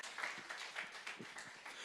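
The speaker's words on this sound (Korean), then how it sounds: "박수 한번 해주십시오." Scattered applause from a church congregation during a Sunday worship sermon, soft and somewhat distant, with a few uneven bursts of clapping over under two seconds.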